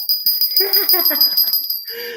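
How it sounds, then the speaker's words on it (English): A small hand bell rings in quick repeated strokes, loud and close, with its bright tone carrying across the whole stretch. A voice can be heard faintly underneath. "So to replace the big bell, I got this little teeny bell."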